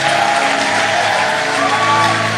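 An audience at a French-speaking religious gathering claps and cheers in sustained, dense applause with scattered whoops, close and loud throughout.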